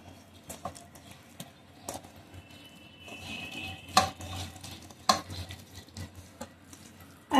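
Jackfruit pieces being mixed by hand in a yogurt marinade for biryani, with soft squelching, irregular clinks and knocks against a bowl, close up and without talk.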